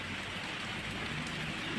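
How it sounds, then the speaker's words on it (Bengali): Heavy monsoon rain falls steadily around a house and flooded yard, a dense continuous hiss of drops on surfaces with no voices. "সারাদিনই কিন্তু বৃষ্টি চলছে প্রচুর পরিমাণে বৃষ্টি চলছে"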